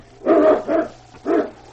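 A husky sled dog on a snowy trail barks three times in quick succession, two close together and one after a short pause, loud and near against a low steady hum.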